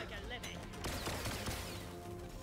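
Rapid-fire weapon shots in the game Deep Rock Galactic Survivor, a dense continuous burst of gunfire under a speaking voice.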